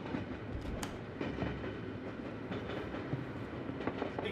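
A train rolls steadily along the rails, its wheels clattering in a continuous, moderately loud rumble with occasional sharper clacks and no voices over it.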